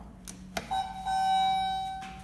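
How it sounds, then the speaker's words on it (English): A Hadfield/Schindler traction elevator, modernized by EPCO, in an office building on Penn Avenue in Pittsburgh gives a single sustained electronic arrival chime, clear and fairly close, after a couple of brief clunks, with no talking. "That's an interesting chime"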